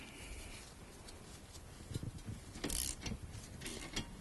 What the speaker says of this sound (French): nous allons bloquer le contre-écrou à l'aide d'une clé plate de 17